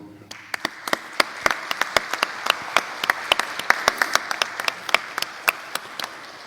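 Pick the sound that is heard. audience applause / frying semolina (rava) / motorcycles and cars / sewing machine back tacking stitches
audience applause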